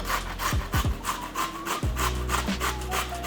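Zucchini rubbed against a box grater for fritters, a close, rhythmic rasping of repeated strokes with brief scraping sweeps, loud and steady with no speech.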